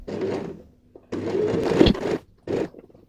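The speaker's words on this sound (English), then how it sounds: "I'm using my normal foot, but I have made my needle position towards the extreme left and just go and sew a 1/4 inch stitch." A sewing machine with a normal foot and the needle set to the far left stitches a 1/4 inch seam on a handbag, running in several short bursts with pauses between.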